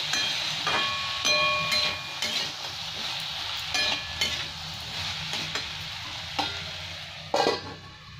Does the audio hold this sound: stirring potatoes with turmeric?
yes